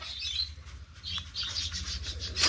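Pigeons burst out of a breeding cage, wings flapping in quick repeated flutters close by, with faint chirps mixed in.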